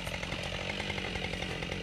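A Husqvarna 572 XP chainsaw cuts through wood, its engine a loud, continuous, close high-pitched buzz with a steady grinding edge and no voices.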